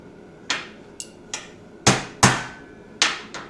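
A hammer taps staples into a car interior panel on a Ford Falcon during carpet prep work: about eight separate sharp metallic blows, some light and some hard and ringing, each decaying quickly, close and loud with no talking.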